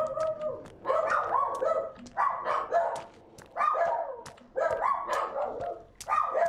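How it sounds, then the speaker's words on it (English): Dogs in the video game Sons of the Forest bark and yip in repeated clustered bursts, close and fairly loud, with brief pauses between volleys. "are you guys barking? There's no one there. Oh, dogs."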